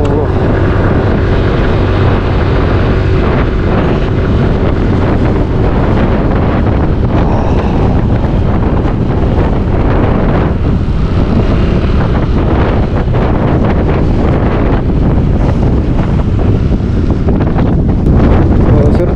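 Strong mountain wind at Trucut on the Monkayo–Boston road buffets the microphone in a loud, continuous roar that rumbles and gusts throughout, masking any other sounds.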